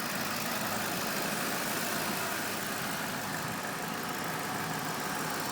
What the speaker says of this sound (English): There's your V8. It's running.